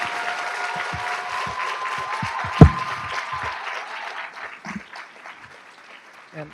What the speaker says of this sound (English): let's give Foster a great round of applause